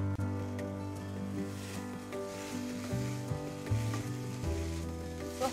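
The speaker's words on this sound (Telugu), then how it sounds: "సో హై ఫ్లేమ్లో స్టర్ ఫ్రై చేసుకోవాలి." Bok choy stir-frying with dark soy sauce over a high flame, a steady close sizzle with scraping and stirring clatter throughout, no talk.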